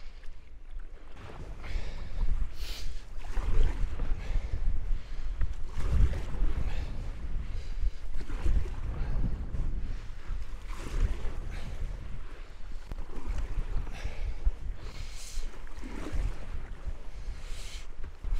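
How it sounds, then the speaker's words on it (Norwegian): Strong wind buffets the microphone while a canoe is paddled against the wind on a lake with whitecap waves, a steady rushing roar with water sloshing and no talking. "ganske bra vind nå, faktisk"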